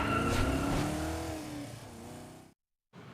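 A car engine revs loudly in a garage, the roar easing off before a brief silence and a short return of engine sound.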